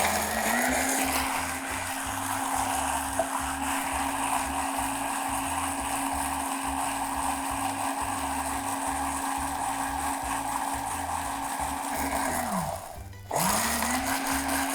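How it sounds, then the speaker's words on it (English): An electric drink mixer whirs steadily as it blends a tiki cocktail, a close, even motor hum that holds for several seconds, cuts briefly, then starts again. "Just give it the old drink mixer treatment."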